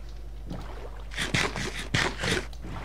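Oars splash and churn as a boat is rowed across water in the video game Minecraft, with a few rhythmic paddle strokes in quick succession, moderately loud and close.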